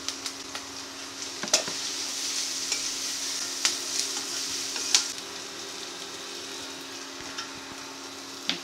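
A steady close sizzle of onions frying in a pan, with occasional scraping stirs and small clicks of a utensil against the metal.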